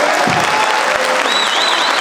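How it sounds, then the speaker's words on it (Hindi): Loud, dense audience applause at a corporate employee annual day celebration honouring musicians including a tabla player, sustained and close, with a faint whistle-like tone running over the clapping. "जोरदार तालियां होनी चाहिए सूरज के लिए"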